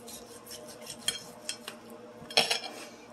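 A knife slices cooked pork on a plate, giving a series of faint scraping strokes and light clinks of metal on a dish, with one sharper clack near the end.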